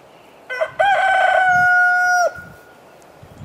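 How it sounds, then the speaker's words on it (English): One of the bigger roosters lets out a single loud crow close by, a short lead-in note followed by a long sustained call that cuts off cleanly into quiet. "there's one of my bigger roosters,"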